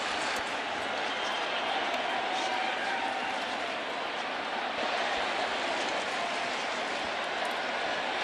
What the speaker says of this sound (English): Yankee crowd really creating some noise here